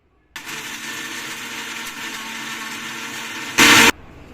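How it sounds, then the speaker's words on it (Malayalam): A mixer grinder whirs steadily, grinding dried curry leaves with tamarind and salt into a powder, then surges into a brief louder burst before cutting off. "നമുക്ക് ഒരിക്കൽ കൂടെ മിക്സിയിലിട്ട് ഒന്ന് ഗ്രൈൻഡ് ചെയ്തെടുക്കാം."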